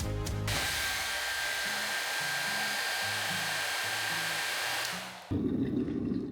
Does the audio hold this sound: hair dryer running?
yes